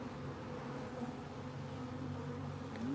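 A small, freshly caught honeybee swarm in a hive gives off a low, steady drone of many wings, faint and close, with slight rises in pitch as individual bees move about.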